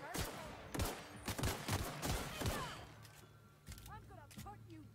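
Rapid bursts of gunfire from a first-person video game firefight in The Outer Worlds, several sharp clustered shots in the first three seconds, then scattered quieter shots and game effects, with a voice talking over parts of it.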